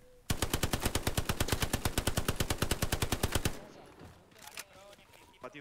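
Semi-automatic fire in the shooter game Hell Let Loose rattles off as a rapid, loud string of evenly spaced shots, then cuts to quieter distant battle noise and faint scattered pops.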